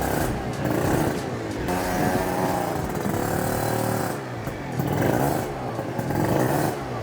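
A Yamaha BWS 50 scooter with a Stage6 kit, running rich and struggling to idle, rumbles and clatters steadily at close range, its tone rising and falling with throttle across the clip.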